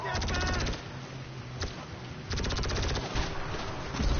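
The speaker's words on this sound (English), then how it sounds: "But I have a laser gun." A laser gun fires rapidly in an ant-themed video game, sharp repeated shots in dense bursts with short pauses between volleys, and a player talks over the shooting.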